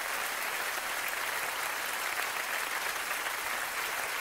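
Loud, continuous applause from a theatre audience at a cabaret show, a dense, even wash of clapping filling the room without pause.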